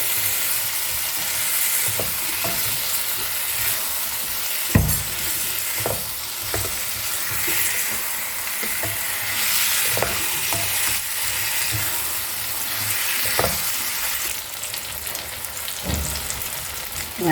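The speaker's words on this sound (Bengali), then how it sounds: "একদম কষা হয়ে গেছে, তেল ছেড়ে দিয়েছে। আর 2 মিনিট মতো কষবো।" Jackfruit and prawn curry masala fries in oil in a pan, a steady loud sizzle running throughout with repeated stirring scrapes and knocks of the spoon against the pan, and no voices.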